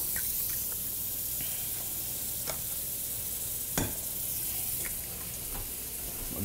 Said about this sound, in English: I'm going to get a tablespoon of butter going, so I can saute these onions.